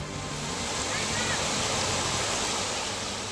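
Strong floodwater current of the swollen Dhansiri river in monsoon flood, a loud, steady rushing roar of water that fills the whole stretch without pause.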